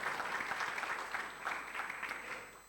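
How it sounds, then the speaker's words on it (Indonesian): Church congregation at a Sunday service applauding, a soft, steady wash of many hands clapping that stays fairly distant and even throughout. "tepuk tangan."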